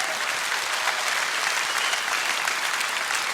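Audience applause fills a concert hall at a Kremlin concert after a choir is introduced, a continuous wash of many hands clapping, steady and loud with no talk.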